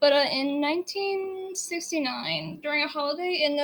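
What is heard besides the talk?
No distinct noise like a dog, phone or traffic.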